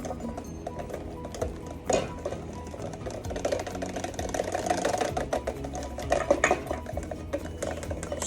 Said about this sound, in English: whisking in the butter